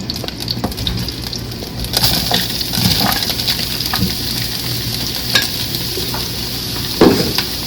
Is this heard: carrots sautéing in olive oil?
yes